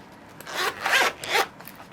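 The zipper on a knitting needle set case, a Tulip brand KDC wooden interchangeable needle case, pulled in several quick rasping strokes, close and fairly quiet, with brief pauses between pulls and no speech.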